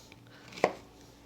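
A sharp knife chops through a quarter onion on a board in a single crisp, close thunk amid quiet background, with no talk.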